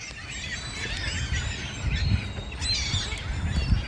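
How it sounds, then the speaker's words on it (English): A huge flock of several hundred seagulls calls overhead, a dense overlapping chorus of squeals and squawks at moderate distance, layered over a low rumbling wind-like background. "Several hundred seagulls."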